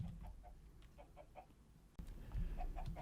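Chickens in Minecraft clucking in short, evenly spaced calls, soft and fairly distant, over a low steady background hum with a slight jump in level partway through.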